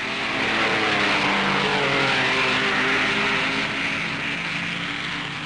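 Grand Prix racing cars from 1958, a Vanwall and Ferraris, roar past at speed in a loud, sustained engine whine that swells and holds with a slowly shifting pitch.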